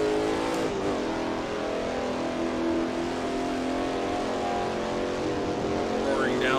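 Vintage race car engine roaring steadily downhill on the 1967 Nürburgring in Assetto Corsa, a loud, sustained multi-harmonic drone with a brief pitch dip early on, heard alone at close range.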